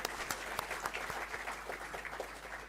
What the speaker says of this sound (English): Round of applause for School of Technology and Management.